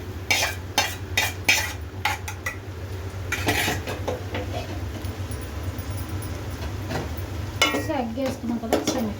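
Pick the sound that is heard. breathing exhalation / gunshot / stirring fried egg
stirring fried egg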